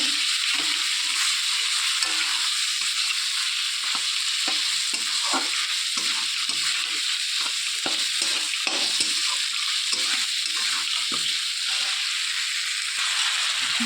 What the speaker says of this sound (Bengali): এর মধ্যে 1/2 চামচের মতো হলুদ গুঁড়ো আর লবণ দিয়ে দিয়েছি, দিয়ে আরও একটু নেড়ে চেড়ে মিশিয়ে নেব।